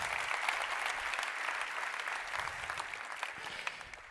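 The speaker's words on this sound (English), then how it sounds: "Round of applause for my mom." A conference audience applauds during a product management talk, giving a sustained, moderately soft wash of many hands clapping that gradually tapers near the end, with no talking over it.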